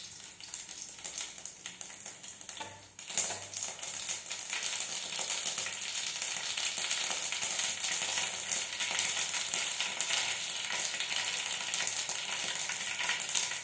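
Cumin and mustard seeds sizzle steadily in hot oil, a dense crackling hiss that jumps louder after a clatter near the start and then carries on evenly.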